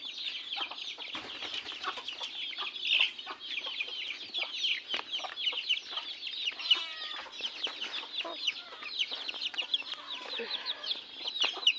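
A mother hen and her eleven chicks scratch in the dirt, the chicks cheeping in a constant high chorus while the hen gives occasional low clucks, close by and fairly quiet.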